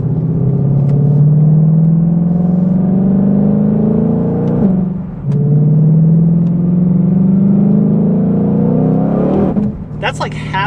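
A Shelby GT500 engine revs at half throttle in two long rising pulls, a loud, close rumbling drone that climbs steadily in pitch, briefly dips between them, and drops away at the end.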